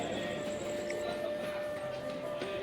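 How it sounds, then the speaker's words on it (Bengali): A train rolls slowly into a station, running ten and a half hours late, giving a steady low rumble with faint squealing tones from the wheels. "এই যে ধীরে গতি ট্রেন ঢুকছে।"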